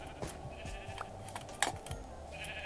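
Sheep bleat several times in brief, separate calls over a low Minecraft game ambience, with a few sharp clicks in between and no voices.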